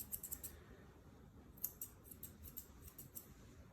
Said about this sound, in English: I'm just using a curved pair of scissors